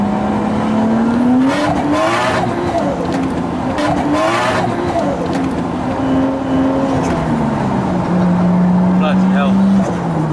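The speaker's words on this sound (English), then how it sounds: "it just lights the back wheels up straight away" Toyota JZX100 with 425 BHP lighting up its rear wheels in wet weather, engine roaring with rising and falling revs and tyre squeal, loud and close, with people talking over it.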